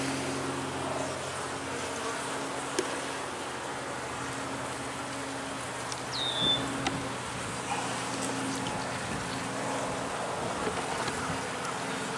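Honeybees buzz steadily around an open hive during an inspection, a continuous low hum with faint outdoor ambience and occasional brief clicks, moderately quiet throughout.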